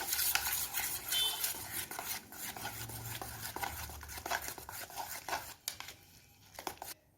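A chili powder, turmeric and salt mixture, evidently with egg for kuzhi paniyaram, is stirred in a bowl, with brisk repeated scraping and tapping of a utensil that fades out at the end; no voices.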